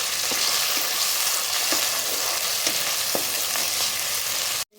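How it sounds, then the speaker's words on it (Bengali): Chopped tomato fries in a pan with onions for chicken kosha, a soft, continuous sizzle broken by regular light taps of a spatula, close and unaccompanied by talk, cutting off abruptly at the end. "আমি টমেটোটাকে ভালো করে ভেজে নেব"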